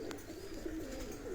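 A pigeon of a particular fancy breed coos in low, soft, continuous murmurs close by, with no talk over it.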